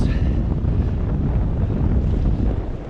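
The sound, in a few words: strong wind at a mooring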